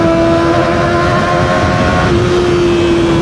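A 2024 Kawasaki ZX25R SE motorcycle engine revving close up, a loud, high-pitched sustained whine with a steady tone that dips briefly and climbs again, alone with no talk.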